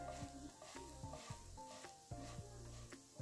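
Oil sizzles in a hot pan, a soft steady hiss broken by regular clinks and scrapes of a utensil stirring, close and fairly quiet, without any voices.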